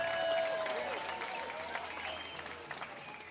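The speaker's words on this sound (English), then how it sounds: "we could all give ourselves a round of applause" A meeting audience applauding at a rural farmers' gathering, steady moderate clapping that stays fairly even and somewhat distant, with faint tones and murmuring underneath.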